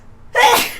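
One sharp human sneeze that bursts out of near-silence after a brief intake, close and loud, with no talk during it.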